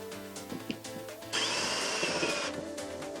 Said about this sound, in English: And we're ready to drill.